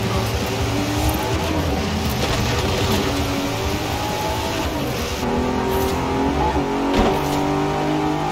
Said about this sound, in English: It's supposed to be a V8, but it sounds like a weird version of a VTR engine